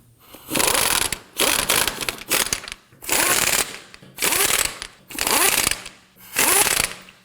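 A ratchet snugs down lug nuts on a Nissan Murano wheel in six loud, evenly spaced bursts of rapid clicking, each about half a second long, with short pauses between them and no talk.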